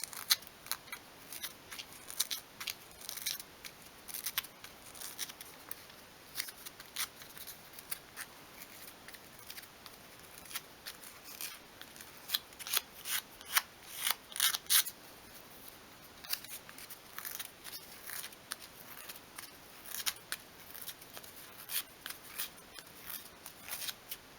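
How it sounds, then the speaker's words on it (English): Sandpaper rubs against the corners of a small 1/12-scale miniature dog bed, a close, steady series of short scratchy strokes repeating throughout with no talking. "just being very careful not to touch the letters with the sandpaper, just carefully round off each corner"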